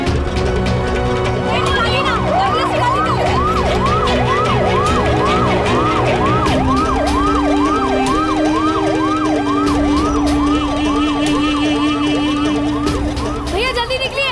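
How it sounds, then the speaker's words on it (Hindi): An ambulance siren wails loud and close in a fast repeating up-and-down cycle that runs throughout, with a steady tone underneath and voices faintly beneath it. "एमिली, सबसे ज्यादा जरूरी उससे एम्बुलेंस में निकालना है।"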